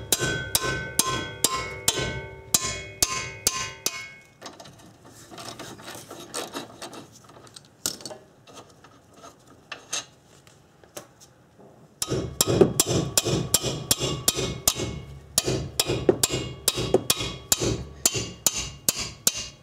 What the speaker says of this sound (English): When it comes to using a hammer, use something pretty heavy. This is a 3-pound hammer.